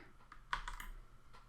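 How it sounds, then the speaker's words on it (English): Typing on a computer keyboard: a quick, uneven run of soft key clicks with one sharper tap, close and clear over a low background hum. "I'll just use my keyboard, but y'all might hear some more typing in the background."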